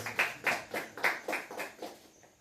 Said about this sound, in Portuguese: bater uma salva de palmas para Jesus